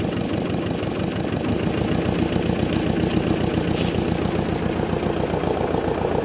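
A tractor engine runs steadily close by, a loud continuous mid-pitched chug with a fast even pulse and no pauses, rough and mechanical throughout.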